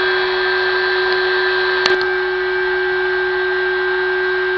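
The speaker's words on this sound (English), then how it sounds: "Now we're gonna start our spindle and then go to the software and hit cycle start." CNC spindle running steadily at a high pitch with a constant whine and hum while cutting a PCB enclosure, with one brief sharp click partway through.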